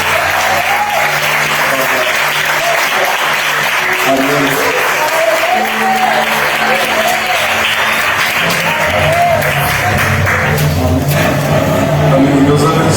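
A church congregation applauds during an evening worship service, steady broadband clapping sustained throughout with a low musical drone and murmured voices underneath.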